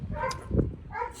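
A short dog bark sounds once, indoors and moderately close, amid faint background noise.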